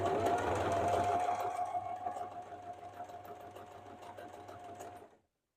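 A sewing machine stitches fabric in a fast, steady whir with a faint mechanical hum, running continuously before slowing and stopping near the end.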